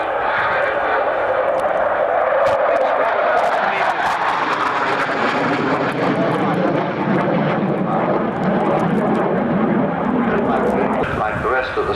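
A swing-wing jet with its wings fully swept flies past at the Farnborough airshow, a loud, sustained roar that shifts in pitch as it passes, while commentary runs over it throughout.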